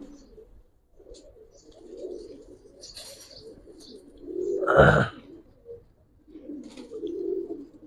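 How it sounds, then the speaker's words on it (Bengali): A male Giribaz pigeon coos in low rolling phrases at the start, middle and end. A sharp thump or flap breaks in near the middle. The bird is close, with quiet gaps between phrases and no speech. "এটা নর কবুতর"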